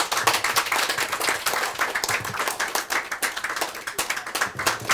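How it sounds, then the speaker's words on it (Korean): An audience claps steadily and warmly at a book launch event, the dense applause close and continuous throughout. "박수 박수 박수."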